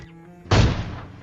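A single sharp gunshot in a video game, fired as a headshot during a team rush, cracks loudly and then booms into a short, fading rumble, with no talking.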